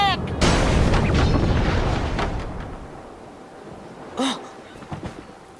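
Cannon fire in Kingdom Hearts 2.5 HD Final Mix booms heavily at the start and rolls off into a long rumbling decay, with a later, smaller impact and a voice speaking briefly.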